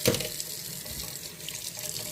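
Water runs steadily from a repaired faucet into a sink and down the drain during a service call, a close, continuous splashing rush with no voices.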